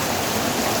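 Heavy rain pours onto a tin roof of a village house during a storm, making a steady, dense rushing patter with no break.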